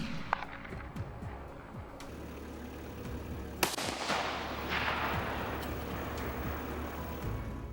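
A single sharp crack from a scoped rifle during night kangaroo hunting, shot from a distance, stands out against a steady rumbling background, followed by a wash of lingering noise.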